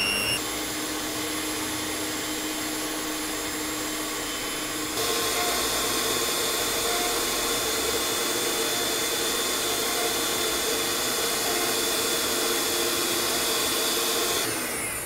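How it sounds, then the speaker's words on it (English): An electric mixer creams icing sugar and margarine for shortbread cookies, giving a steady whirring motor hum that shifts slightly in pitch partway through and runs on continuously with no talk. "We are going to combine our icing sugar and margarine using the creaming method. And we are going to turn on our electrical mixer."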